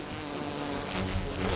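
Bees buzz steadily at a hive, a dense continuous hum of many insects close by with no pauses.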